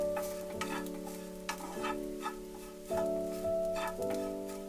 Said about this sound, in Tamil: தேங்காய் நல்லா வாசனை வர அளவுக்கு நல்லா வறுத்துருச்சுங்க